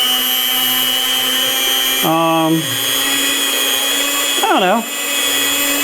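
A cheap stand mixer creaming butter and sugar gives off a steady, loud, high-pitched electric whine throughout, while a voice briefly talks over it twice.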